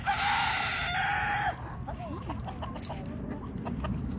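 Chickens on a farm clucking and crowing close by, a loud sustained call at the start followed by broken, overlapping clucks and chirps against outdoor background noise.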